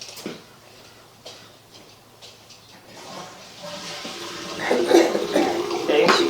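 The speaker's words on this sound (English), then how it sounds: "We're going to flush the toilet." A toilet flushes into a house sewer line, water gurgling and rushing through the pipe, faint at first and then surging louder toward the end, with brief ticking and a voice in the background.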